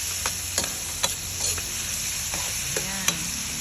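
Tomatoes are stirred into ampalaya frying in a large Salad Master casserole, a steady sizzle punctuated by sharp scrapes and clinks of the spoon against the pan, close and with no talk.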